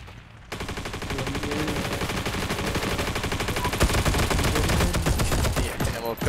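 Shoulder-fired light machine gun in a multiplayer shooter video game, rattling off a dense, continuous stream of rapid shots that grows louder and keeps going almost without pause.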